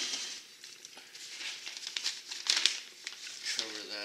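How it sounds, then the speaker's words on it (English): Special masking paper is crinkled and handled while masking off the chrome rim of an old mag wheel before spray painting, making close, papery rustling and crumpling noises with a voice talking over them. "Now we'll mask off the areas that we don't want to paint, the chrome rim, and"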